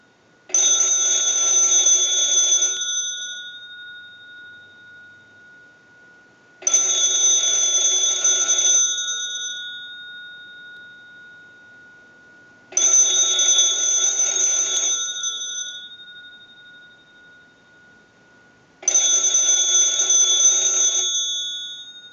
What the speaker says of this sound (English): send a ring cycle to the bell box